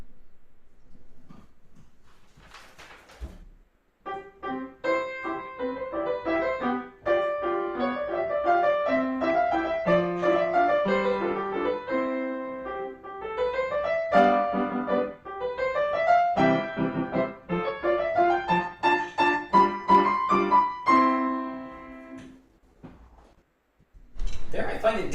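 Grade 1 Beethoven piece on solo piano, a simple melody over a light accompaniment in steady phrases, close and clear, building toward a louder finish, with a brief voice at the start and end.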